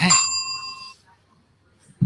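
A single bright bell strike rings out close with clear sustained overtones, fading over about a second, followed by a short burst of voice.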